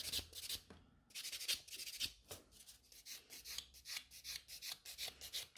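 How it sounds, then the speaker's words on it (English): Nail file scratching across a gel nail in a salon, quick rhythmic rasping strokes in short bursts with brief pauses, close and fairly quiet. "So I'm giving a couple scratches to this nail as well."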